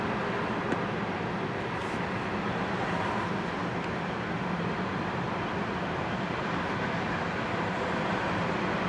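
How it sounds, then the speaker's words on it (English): A Norfolk Southern coal train led by a Dash 9 and an SD70M locomotive heading east, giving a steady, loud broadband rumble of engines and rolling cars that holds evenly throughout without a break. "here we will watch the Dash 9, the SD70M, as they will lead this NS coal train as he will continue east to Pier 6"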